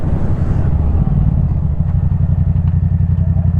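Yamaha MT-07 (2024) motorcycle engine running while riding, a steady, loud low rumble with rapid pulsing throb and faint clatter throughout, no voices.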